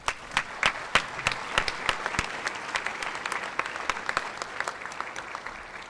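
An audience at a high school senior honors night claps steadily, a dense wash of hand claps with a few sharper, nearer claps standing out, holding at a fairly even level throughout.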